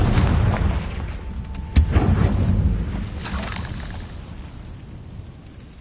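Confringo spell blasts in Hogwarts Legacy go off as a rumbling explosive boom with a sharp crack near the middle, then fade into a lingering decaying roar.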